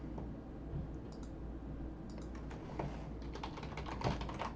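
Steady typing on a computer keyboard, with soft, irregular key clicks that grow busier and slightly louder toward the end, heard close up with no talking.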